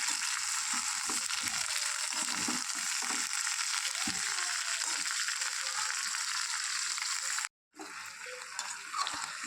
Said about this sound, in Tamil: இது சிம்லேயே வச்சு கொஞ்சம் இந்த மாதிரி நல்லா வதக்கி எடுத்துருங்க